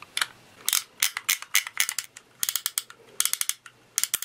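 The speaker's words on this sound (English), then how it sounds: "So we will load up a turbo launcher," A Power Rangers Spin Fighters turbo launcher toy being loaded, with rapid clicking ratchet-like plastic clacks in quick bursts, close and fairly quiet.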